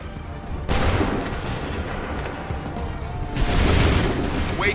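Musket volley fire in the Assassin's Creed 3 video game: a dense crackling burst of massed gunshots starts near the one-second mark, and a second loud volley follows later over a steady battle din.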